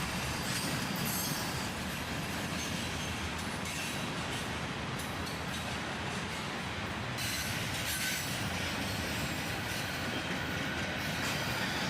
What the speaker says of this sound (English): soon enough, the tail end of this manifest train passes